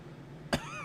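A single short, sharp cough from a man during a 1956 baseball replay broadcast, loud and close, breaking a quiet stretch and followed by a faint fading tail.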